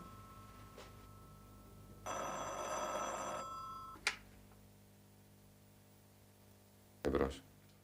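An old-style telephone bell rings in a long buzzing burst, followed by a sharp click and later a clattering handset pickup, with quiet room tone between.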